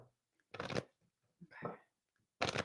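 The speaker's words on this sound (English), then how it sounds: "I shall shuffle this deck." Three quick riffled shuffles of a deck of cards, short crisp flurries of flicking paper separated by pauses, close and fairly quiet, with a brief soft voice-like sound between.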